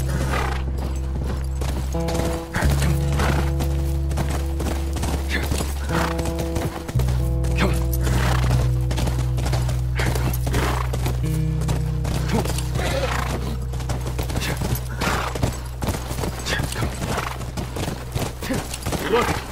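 Horse hooves clip-clop steadily and a horse neighs in The Last of Us on PS4, set near a ranch, all layered under a sustained game music score with occasional voices.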